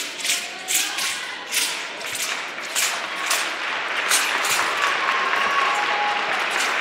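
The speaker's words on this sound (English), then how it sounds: "the crowd getting behind Sergei Batrudinov" A crowd at the World Wushu Championships applauds a daoshu performer with loud, continuous clapping, punctuated early by several sharp thumps from the performance that give way to steadier applause.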